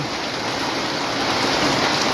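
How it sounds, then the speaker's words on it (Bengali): Heavy, continuous rain pours down in Comilla, Bangladesh, a dense, steady hiss that holds at an even loudness and swells slightly toward the end, with no voices. "প্রচুর বৃষ্টির আওয়াজ দেখো"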